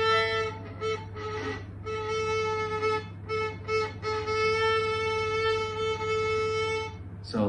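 Bowed violin with the bow stopping, giving a choked, strangled tone: a sustained, buzzy note broken by repeated brief halts and restarts, close and alone over a steady low hum.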